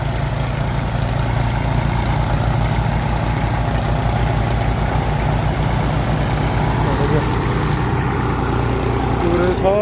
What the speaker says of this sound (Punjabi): ਟਰੈਕਟਰ ਰਸਤੇ ਵਿੱਚ ਚੜ ਨਹੀਂ ਰਿਹਾ